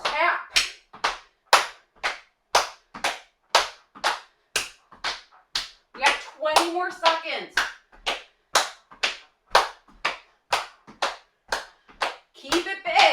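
Rhythmic hand clapping keeps time during an at-home cardio workout, sharp claps landing roughly twice per second as jumping moves go on, with an instructor's voice calling out encouragement partway through.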